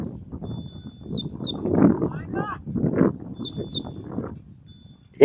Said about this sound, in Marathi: बघा कसे पक्षी वर उडून राहिले भावन.